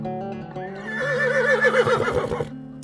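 A horse-like creature in Fallout 4 lets out a single loud, wavering whinny that rises, trembles for over a second and then breaks off abruptly, close and clear.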